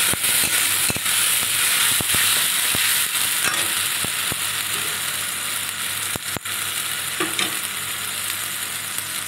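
Spice paste sizzles and fries with onions in a pan while a spoon scrapes and stirs, with steady loud crackling broken by repeated sharp scraping clacks, close up.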